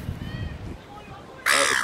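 Crows on a street at Cronulla Beach, Australia, give one loud, harsh caw close by near the end, after a stretch of low background murmur.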